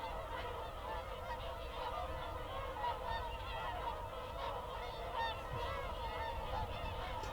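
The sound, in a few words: swans flying low overhead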